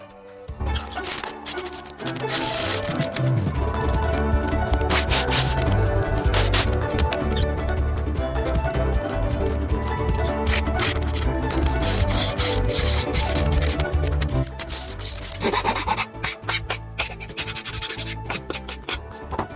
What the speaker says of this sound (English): as I'm sanding this